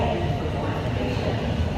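A dense, steady rumble of a Toronto TTC subway train fills Sheppard West station, loud and continuous with no distinct breaks.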